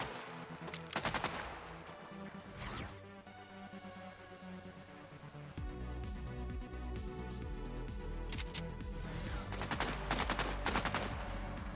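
A spread launcher firing in the video game Borderlands 4, with repeated sharp blasts and bursts over a dense, busy background of game music and effects, steady and loud throughout.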